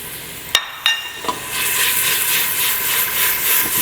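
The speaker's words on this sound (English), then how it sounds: "Get a nice sizzle to that." Mirepoix hits a hot pan for a turkey bolognese. After a few sharp clanks and taps, a steady, loud sizzle rises and holds, broad and hissing, with no talking.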